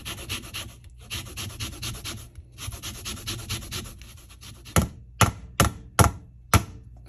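Two oranges are rubbed across a zester, making soft rasping scrapes that rise to a few sharper, louder strokes near the end, close by and without talk.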